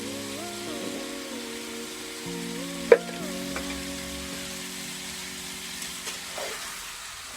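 Masala and ginger-garlic paste sizzle steadily in oil over a low flame for a baby shark fish (mushi) sukha dish, a soft continuous fry with a few sharp stirring knocks and faint tonal music underneath.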